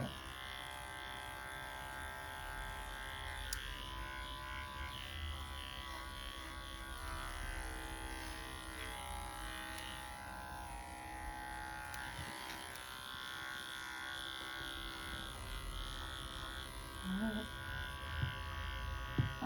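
Electric clippers shave a Persian cat in a lion cut, a steady thin buzz running continuously for the whole stretch, close and moderately quiet, with a few faint handling bumps toward the end.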